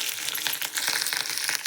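Garlic sizzles in a pan with mustard seeds and chilli, a short burst of crackling, popping frying noise with faint scattered spits and no talk.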